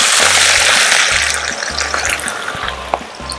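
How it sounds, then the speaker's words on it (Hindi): A steady, loud, bright sizzle rises as onions fry in about one and a half cups of hot oil for biryani, continuous and close, with a low mechanical hum pulsing beneath. "ऑयल गर्म हो चुका है, इसमें हम प्याज डाल देंगे"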